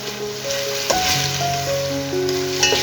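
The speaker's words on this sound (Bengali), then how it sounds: "মশলাগুলো এখন বেজে নেব" Spices fry in a pan for a chicken and white pulao dish, a steady close sizzle with occasional stirring scrapes, alone without talk.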